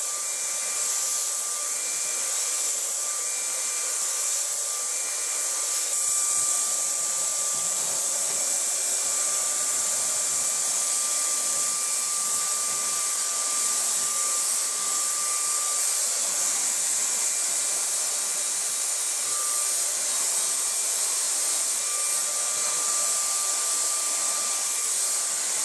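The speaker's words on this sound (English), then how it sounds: "So take my new blow dryer." A new handheld blow dryer blows steadily and loudly for the whole stretch during a haircut and styling session, a constant airy roar with a thin whine and no talking.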